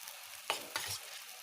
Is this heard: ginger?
yes